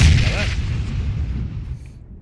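A grenade blast in the PUBG video game, one loud booming explosion at the start that rumbles and fades over about two seconds.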